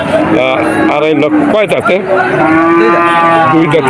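A bull moos loudly and close by at a cattle market in Bagerhat, Bangladesh, long drawn-out lowing calls, with people talking over and around it.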